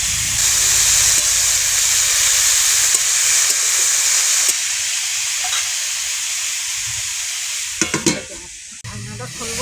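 Mixed vegetables with peas and potatoes fry in a pan with a steady, close, bright sizzle. A few utensil clinks and stirring scrapes come near the end.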